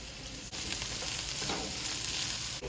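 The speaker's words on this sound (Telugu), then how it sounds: "నల్లేరు ముక్కలు చక్కగా వేగుతున్నాయి" Pieces of nalleru, the veld grape, fry in a pan with a steady, loud, dense sizzle that holds evenly throughout, briefly dipping twice.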